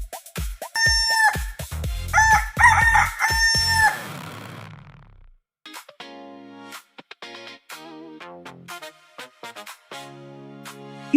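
A rooster gives a loud, drawn-out crow in a few strong pulses, then falls silent. Afterward a voice speaks and imitates the crow.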